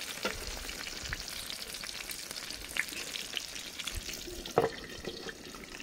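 Eggplant fries in duck fat in a pan, a soft continuous crackling sizzle with occasional louder pops and faint utensil clinks, no talking over it.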